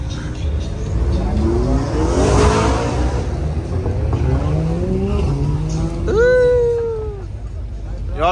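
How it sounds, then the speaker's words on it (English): Sports cars, including a Porsche GT3 RS and a BMW M2, pull out of a rainy cars-and-coffee meet with rising engine revs and climbing gear sweeps, loud and near, a whining pull toward the end, with people talking over it. "A GT3 RS pulling out. M2 pulling out."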